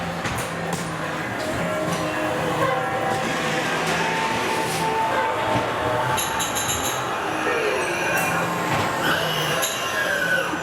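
A classic ghost train dark ride at Great Yarmouth Pleasure Beach rumbles along its track, with steady loud rolling wheel noise and clattering, plus a few sharp effects bursts partway through.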